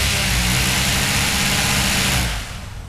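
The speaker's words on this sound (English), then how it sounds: "the beauty of this recovery barge is it's electrically driven with props" Electric propeller drive of a radio-controlled recovery barge on the water, a loud continuous whirring hum with steady tone that drops away sharply near the end, no voices over it.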